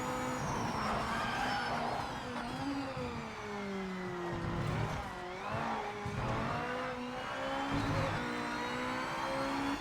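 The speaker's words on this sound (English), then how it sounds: "Did you hear how the throttle, the revs, the way it climbed up there?" A race car engine revs continuously in the video game Project Motor Racing, its pitch climbing and dropping through gear changes, loud and steady with a synthetic, game-like tone throughout.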